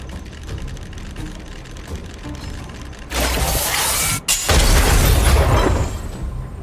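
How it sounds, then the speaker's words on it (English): A big explosion in the video game Honkai: Star Rail, a loud broadband blast that bursts in midway, cuts out briefly, then roars again even louder before trailing off. "We wiped them all out in a single explosion!"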